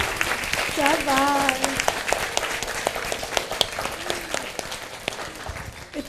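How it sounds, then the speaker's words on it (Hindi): An audience at a Guru Purnima gathering claps for a guest, sustained steady applause filling the room while a voice calls out briefly over the clapping near the start. "इनके लिए सब ताली बजाएंगे"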